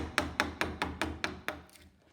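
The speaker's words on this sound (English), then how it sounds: "from here I put the chisel on the line and take it a little bit slower" A chisel tapped along a marked line in wood while making a pencil gauge, heard as seven sharp, evenly spaced taps about a quarter second apart, close and moderately loud, with a fainter eighth at the end.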